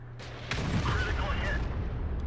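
A tank cannon fires in World of Tanks, one sharp boom followed by a rumbling tail, heard under a commentator's voice.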